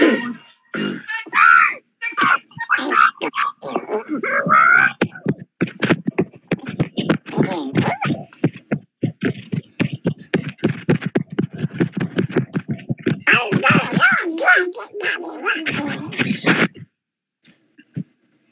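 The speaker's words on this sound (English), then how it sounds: "Is that Shark Puppy screaming?" The puppet character Shark Puppy gives a long run of loud, rapid screams and yelps that starts and stops many times over about seventeen seconds, close to the mic.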